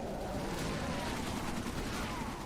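Rapid, continuous gunfire from a silenced SMG in a video game firefight, handed to an ODST ally, forms a steady dense rattle throughout without letup.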